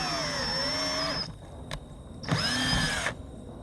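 Power drill driving a self-tapping screw outdoors to mount a Haloview RD7 backup camera on a roof, with a loud rising motor whine, a pause, a short blip and then a second burst.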